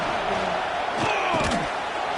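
A football stadium crowd roars loudly at an SEC game, a dense continuous rumble of many voices filling the whole moment with no break.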